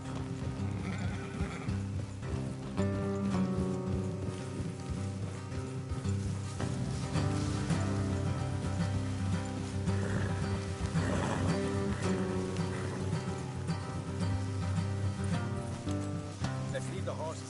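Steady clip-clop of horse hooves in Red Dead Redemption 2 under a continuous musical score, with occasional snorts and whinnies; loud and sustained throughout.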